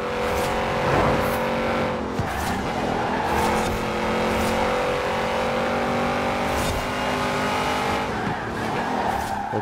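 An Audi RS7 racing through city streets at night in a driving game, its engine droning and revving continuously with tire squeals and skids layered on top, close and loud throughout.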